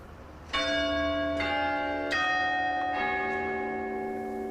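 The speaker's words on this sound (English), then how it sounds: "The chimes of Great St Mary's Church sound like they have been copied from Big Ben at Westminster." Chimes of Great St Mary's Church in Cambridge ring out: four resonant bell strikes in a slow descending sequence, each leaving a long ringing decay, heard clearly from a moderate distance in a quiet street.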